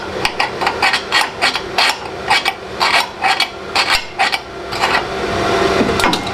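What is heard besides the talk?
scribing marks on metal with a scratch awl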